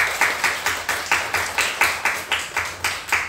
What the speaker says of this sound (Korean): 우리 박수로 서로 환영하고 보내면서요